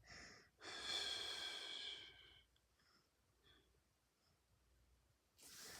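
A long, deep breath during a Kundalini yoga class: one drawn-out, airy inhale or exhale lasting over a second, then soft, faint breathing, with another breath starting at the end.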